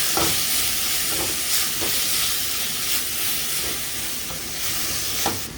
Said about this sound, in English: Add potatoes and stir.